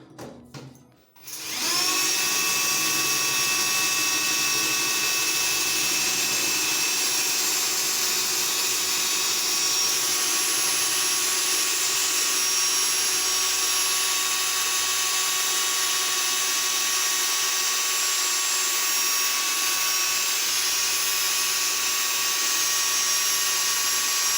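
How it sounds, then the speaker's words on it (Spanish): A steady, loud whine of an electric drill boring into ceramic tile runs continuously after a brief start, with a constant high-pitched tone and no pauses. "Entonces vamos a empezar a continuar taladrando."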